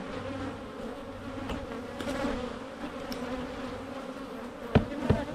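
Honey bees swarm and buzz around frames lifted from a hive during early spring colony work, a steady dense hum close by with a few sharp knocks near the end.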